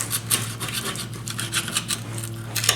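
Close, continuous rasping and scratching as a tool scrapes rust off a bumper bolt on a GMC/Chevy Sierra or Silverado 2500 truck, quick gritty strokes with no talk.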